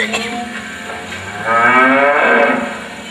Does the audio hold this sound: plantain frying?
no